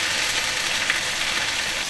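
A tomahawk beef steak fries in a pan with a steady, even sizzle that holds at one level throughout, with no voices.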